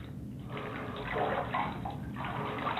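Bathwater splashing and sloshing as a person is washed in a tub at home, a steady moderate watery wash with soft swells, close by and with no talk.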